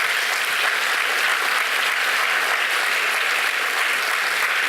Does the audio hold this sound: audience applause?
yes